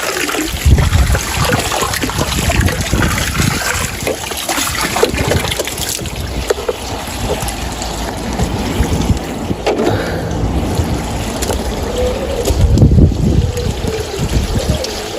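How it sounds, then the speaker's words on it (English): Treatment mix pours from a watering can into a garden pond, a steady splashing trickle of water running continuously and fairly close, with no talking. "So I'll just keep adding that watering can over a space of an hour."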